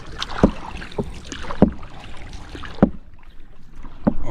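Two wooden paddles stroke a small fishing boat through calm, current-free water, each stroke landing as a distinct splash and knock roughly every 1.2 seconds, four in all, close by over faint wind.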